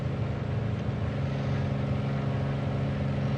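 A Grumman Goose's piston engines drone in flight in Microsoft Flight Simulator, a steady, dense, even hum, loud and continuous, with no talking.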